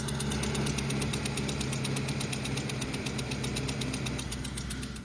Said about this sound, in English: knocking sounds from engine